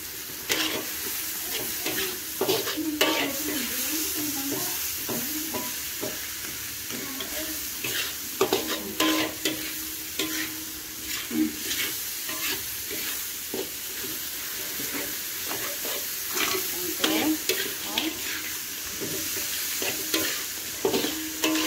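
Tomatoes frying in a hot pan for sambal jengkol, a steady loud sizzle with repeated scraping stirs of a spatula throughout, close up.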